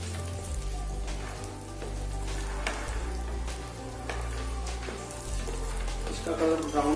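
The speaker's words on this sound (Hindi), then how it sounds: "ऑयल डाल दिया है, अब मैं इसमें मूंगफली के दाने डालूंगा।" Peanuts fry in oil in a pan with a continuous crackling sizzle, like light rain on a surface, under a low steady hum that drops away near the end.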